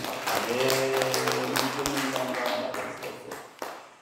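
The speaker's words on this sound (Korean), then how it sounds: "박수로 영광" Church congregation clapping together to give glory during a Sunday worship service, steady dense claps under singing and voices, fairly loud and close, tapering off near the end.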